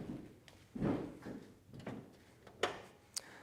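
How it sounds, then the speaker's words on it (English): The door of a 1967 Chevrolet Camaro convertible swings shut with a quiet, close thud, followed by a few light clicks and ticks of the latch settling. "And we can shut the door. Door's shut nicely."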